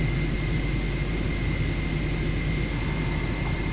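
Aircraft engine in Microsoft Flight Simulator 2024 spooling steadily after start, a constant broadband roar with a sustained whine and low rumble, even and unbroken with no voices.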